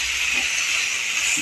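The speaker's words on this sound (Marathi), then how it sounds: "आपण कोथिंबीर चांगली परतून घेऊया।" Coriander leaves sizzle in a hot pan while being sautéed for a paratha filling, a close, steady hiss with no breaks.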